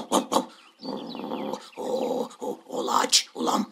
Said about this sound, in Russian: О, собака?